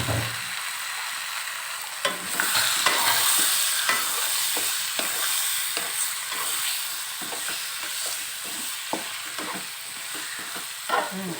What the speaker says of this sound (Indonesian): Kita tumis ayamnya.